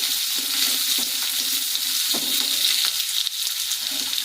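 Onions frying in a pan for sweet corn rice, a steady loud sizzle with a crackling hiss and light stirring clatters throughout, close by and without talk.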